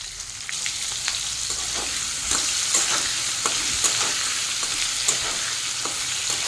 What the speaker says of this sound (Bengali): এখন দিয়ে দেবো ছোটো চিংড়ি মাছগুলো। নাড়িয়ে চাড়িয়ে সবগুলোকে একটু ভালো মতো করে ভেজে নেব।